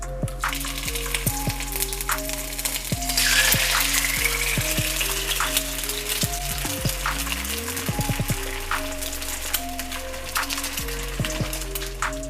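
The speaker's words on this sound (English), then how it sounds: "Now we're gonna crack an egg and just plop it onto the pan." A single egg sizzles and spits in a pan oiled with vegetable oil, a steady crackling fry with scattered sharp pops, close and alone without voices.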